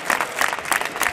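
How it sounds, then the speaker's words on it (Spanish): Applause in the Spanish regional parliament, a short burst of dense clapping from a group of Socialist members welcoming a colleague's new appointment. "Entre los aplausos de los suyos por su reciente nombramiento como secretario de organización del PSOE"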